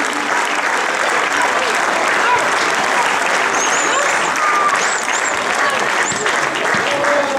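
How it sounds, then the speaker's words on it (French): An audience applauds a U15 team at a tournament prize-giving ceremony: dense, steady clapping fills the whole stretch at loud, even volume, with crowd voices mixed underneath. "Les joueurs aussi, on peut applaudir."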